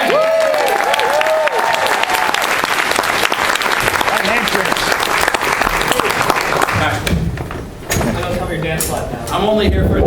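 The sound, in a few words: audience applause and cheering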